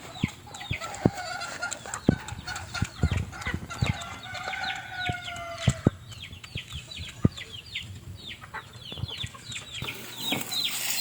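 Chickens cluck in quick bursts and a rooster crows, close by and lively, with scattered sharp calls throughout a busy farmyard.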